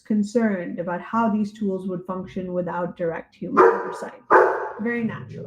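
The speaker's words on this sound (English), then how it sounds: "Sorry about my dog in the background." A dog barks and yips somewhere in the room while a person keeps talking, the barks mixed under and between the words.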